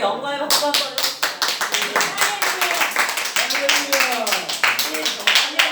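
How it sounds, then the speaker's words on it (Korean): A church congregation clapping together in a steady rhythmic beat, loud and close, with singing voices carried over the claps. "자, 주님께 우리 영광의 박수 한번 해봅시다."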